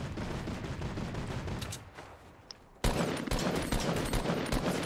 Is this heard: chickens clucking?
no